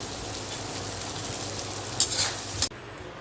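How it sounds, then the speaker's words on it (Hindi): Steady hissing sizzle of cumin, mustard seeds, asafoetida and red chili frying in hot oil as a tempering for rajma, dense and continuous, with a brief louder crackle near the end before it cuts off. "राजमे को छौंक लगाने के लिए जीरा, सरसों, हींग, लाल मिर्च और चुटकी भर चीनी।"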